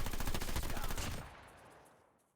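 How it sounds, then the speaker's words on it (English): Rapid bursts of automatic gunfire from a battle royale video game, a dense loud volley for about a second that breaks off and trails away into a fading echo. "After hearing some gunfire at the top of this hill, I decided to go invest."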